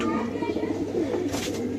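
Pigeons on a rooftop loft at a home coo close by, a steady low murmur of calls running through the short stretch alongside faint background noise.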